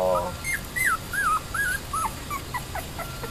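A small black puppy whines in a series of short, high, wavering cries, close by on a patio and repeated rapidly over a few seconds.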